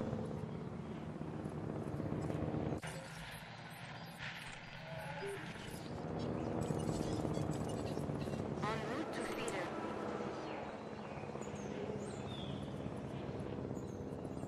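A transport helicopter flies in the park-building game Jurassic World Evolution, giving a steady, loud rotor and engine drone that runs through the whole stretch, with game music and other effects layered over it.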